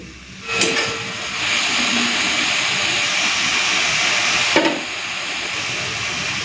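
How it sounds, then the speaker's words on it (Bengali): Leafy greens hiss and sizzle loudly as they are stir-fried in a pan in a home kitchen, a continuous steam-like roar broken by two sharp clinks of a utensil against the pan. "এইভাবেই নাড়াচাড়া করে করে শাকটাকে ভেজে নেবো"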